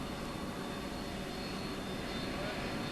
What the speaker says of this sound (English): طائرة الإيرباص وهي تقترب للهبوط في مطار دبي الدولي